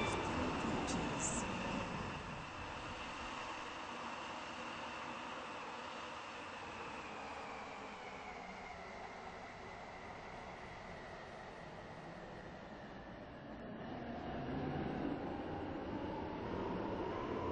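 Three-coach train running in Stepford County Railway, a continuous quiet rolling drone with a rising and falling motor whine, dipping mid-run and swelling again near the end.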